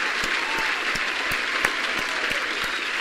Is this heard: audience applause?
yes